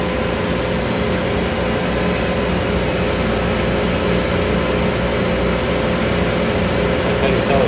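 The Liberty Belle riverboat at Magic Kingdom's Liberty Square, its engine running after the throttle is engaged, a loud, steady low drone and hum that fills the whole stretch with no pauses.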